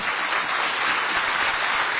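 An audience at a Manorama conclave in Kerala claps in a dense, sustained burst of applause, loud and even for the full two seconds, with no voices.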